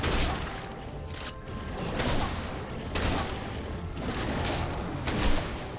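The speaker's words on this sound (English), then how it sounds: "That was only a warning shot." Shotgun blasts from Graves in the mobile game Wild Rift, heard as dense, repeated booming gunfire with clatter over busy game action, at a moderate level and with no talking.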